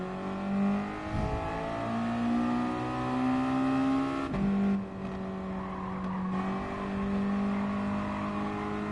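Race car engines held at full throttle in a racing video game, a steady droning whine with gear-shift dips and pitch changes, loud and continuous with several cars overlapping.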